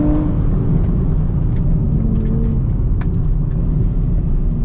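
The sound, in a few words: 2025 Nissan Z Nismo engine pulling through third gear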